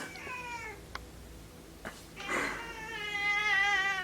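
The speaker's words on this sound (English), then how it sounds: "my cat just jumped all the way from up there" A house cat meows several times indoors, with short calls followed by a longer, louder drawn-out meow near the end.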